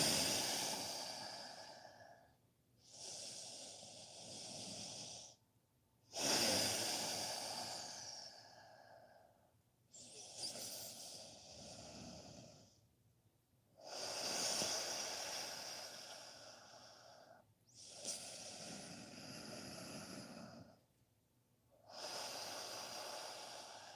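Slow, steady breathing through the nose, close and soft, with long airy inhales and exhales alternating in an even rhythm separated by brief pauses.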